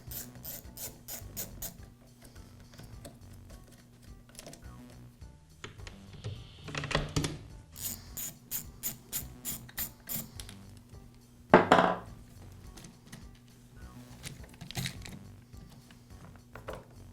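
Plastic and metal parts of a Poulan chainsaw are handled during carburetor replacement as the air filter base is removed: quiet, close clicks, scrapes and rubbing taps in irregular bursts, with a sharper knock near the end.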